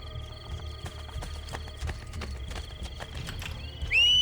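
Horse hooves clip-clopping steadily at a quick pace in Assassin's Creed Brotherhood, with a whinny near the end, loud and close with game ambience beneath.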